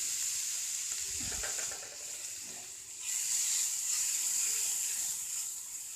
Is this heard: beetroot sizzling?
yes